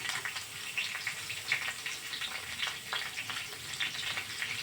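Spring onions tossed into hot oil for egg chowmein, a fairly quiet crackling sizzle with uneven bursts and pops as the pan is stirred.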